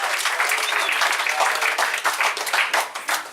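Audience at a live comedy show applauding the MC, Carl Legacy, with steady dense clapping throughout, loud and close, plus scattered cheers mixed in.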